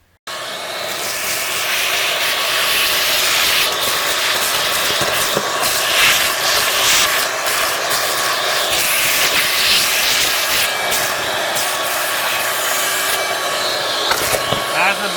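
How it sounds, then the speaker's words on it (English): A vacuum cleaner runs steadily and close up while cleaning out the interior of a forgotten 1962 Thunderbird, a continuous loud whooshing drone with scraping and rubbing of the nozzle against surfaces. "I'm gonna vacuum first before we do anything else, just to clean it up in here."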